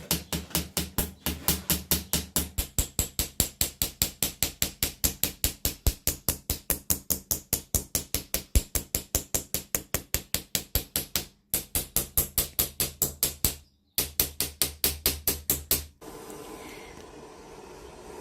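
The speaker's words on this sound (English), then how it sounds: "Rachel and I have just finished hammering" Steady, rapid hammer blows ring on a folded metal sheet during fold forming, dozens of evenly spaced strikes with a couple of brief pauses, then the pounding stops into quiet room noise.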